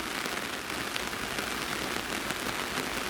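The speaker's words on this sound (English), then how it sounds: "Wow, that rain." Steady heavy rain pours onto surfaces at an allotment during a thunderstorm, a dense continuous hiss that stays loud and even throughout with no voices.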